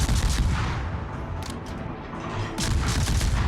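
Naval gun salvos fired at an enemy warship in a naval combat video game, loud dense booms and rumbling blasts filling the whole stretch, with a brief lull midway before another heavy volley.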